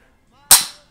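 A PSA AKV 9mm with an ALG trigger dry-fires, giving a single sharp, close metallic snap as the trigger breaks, after near silence.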